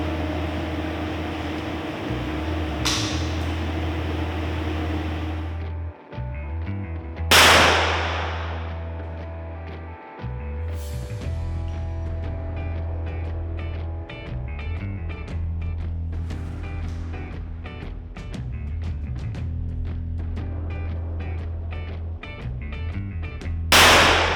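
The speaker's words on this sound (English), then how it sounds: "I did want to put a couple rounds of 44 Magnum into it after the fact to see how it holds up" A .44 Magnum handgun is fired into an armored backpack plate at an outdoor police range; a few sharp, loud cracks are spaced seconds apart over a steady low hum.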